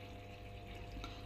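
A washing machine drawing in water, a faint, steady rushing flow heard close and without pause through the whole short stretch.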